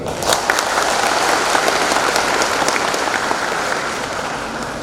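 Steady, dense applause from a large audience at a public university lecture given by a government minister, loud and continuous throughout, with a few sharper individual claps standing out near the front.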